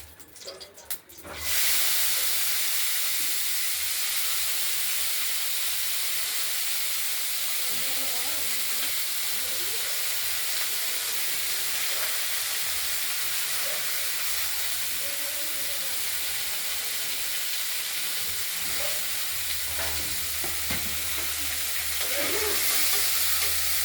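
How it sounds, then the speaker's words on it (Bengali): Chopped broccoli fries in hot oil in a wok with whole spices and green chillies, giving a loud continuous sizzle and hiss after a brief clatter at the start, with occasional stirring and a faint voice underneath. "ব্রুকলি কড়াইতে ভাজা, কুচিয়ে ভাজা।"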